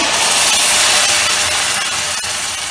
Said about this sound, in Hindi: अब इसमें ये प्यूरी डाल देंगे जो हमने ग्राइंड की थी